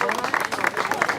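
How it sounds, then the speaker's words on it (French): Audience at an enduro event gathering in Brionne breaks into brisk, dense applause, a steady close wash of clapping under which voices can also be heard. "on peut l'applaudir bien fort"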